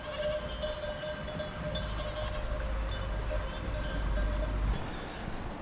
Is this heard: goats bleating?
yes